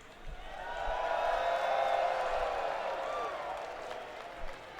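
An esports tournament crowd cheers and applauds for a Fatal Fury grand final, a steady wash of clapping and whooping that swells and holds for several seconds, with faint talk underneath.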